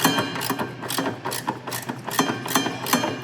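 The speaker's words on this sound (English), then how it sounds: "fortunately I did have a 7/16 with a flex head ratchet on there." A 7/16 socket on a flex-head ratchet turns a nut while installing a CB6 conversion kit, giving rapid, steady metallic clicking that repeats in quick close-up bursts.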